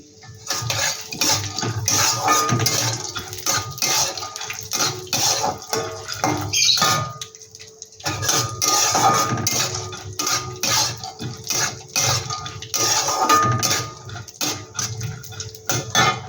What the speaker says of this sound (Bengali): এটাকে একটু আমি ভেজে নিচ্ছি